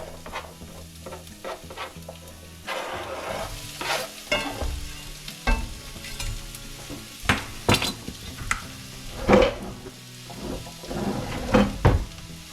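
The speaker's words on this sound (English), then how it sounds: "Now we're going to throw the onion in first because I want that to cook a little bit" Chopped onion sizzles in a hot pan for chicken fried rice while a utensil stirs and scrapes it in irregular bursts, with occasional pan and cutlery clinks close by.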